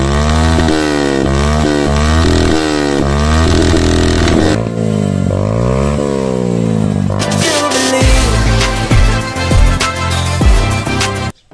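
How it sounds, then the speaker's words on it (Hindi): A Yamaha FZ-S motorcycle fitted with an Akrapovic full-system exhaust revs hard, loud and close, its engine note rising and falling in repeated throttle blips before a final burst of sharp, crackling revs that cuts off abruptly. "तो भाई साहब हमारे जाने मन पे लग गया है एक्रोहोविक का ये एग्जॉस्ट।"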